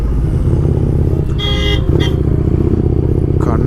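Horn honks from a vehicle ahead on a narrow rural road during a winter motorcycle ride, two short bursts heard over steady engine and wind rumble.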